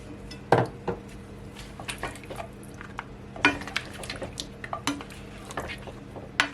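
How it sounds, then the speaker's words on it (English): A pan of homemade pork ribs takes a handful of scallion and ginger and gets stirred, with irregular metal clinks, scrapes and soft squishy stirring sounds, some sharper knocks standing out, close and alone. "I have a few more of my scallion and my ginger, and I'm just gonna add it."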